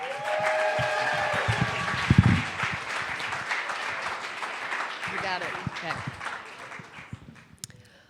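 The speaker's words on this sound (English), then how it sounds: "please give a big round of applause for Amanda" Applause from a talk audience welcoming a speaker to the stage, broad clapping that continues steadily and gradually thins out, with a voice and some cheering heard over it.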